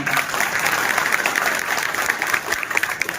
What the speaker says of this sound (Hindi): एक बार जोरदार शानदार ताली बजाने